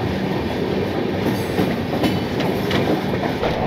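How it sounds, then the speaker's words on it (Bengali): The Puri Howrah Shatabdi Express rumbles along at speed, a close, steady roar of wheels and carriage noise with faint rhythmic rail clatter throughout. "9:10 আমাদের ট্রেন ছেড়ে দিল।"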